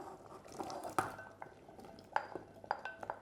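Carrot and potato pieces go into a pot of slow-cooked Vietnamese beef stew, bo kho, with light clinks and knocks of a utensil against the pot and soft liquid movement, close and fairly quiet.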